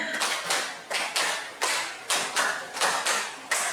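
A group plays a classroom clapping game, clapping together in two quick sets of five, about ten crisp claps in even rhythm.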